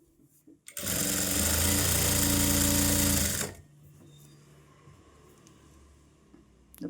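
A sewing machine stitches fabric with tape stuck under the presser foot, running in one loud, continuous burst of about three seconds close up, then stopping into quiet room noise.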